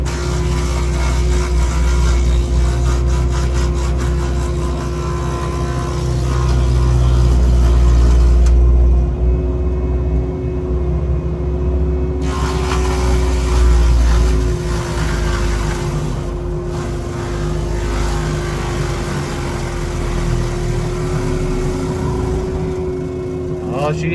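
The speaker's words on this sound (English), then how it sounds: "Oh, she's a new mulching machine, family." A CAT 306 mulching excavator with dull teeth runs loudly and steadily, its deep engine rumble and strained working drone continuing throughout with brief dips in intensity, and a voice talking over it.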